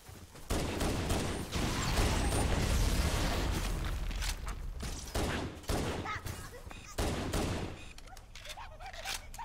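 Rapid pistol gunfire in the video game Halo CE Anniversary, a dense string of sharp shots fired close up and loud, with bursts continuing across the clip and trailing off with brief gaps near the end.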